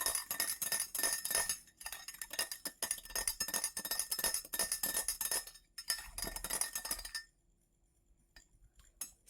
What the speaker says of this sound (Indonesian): Kemudian kita aduk lagi.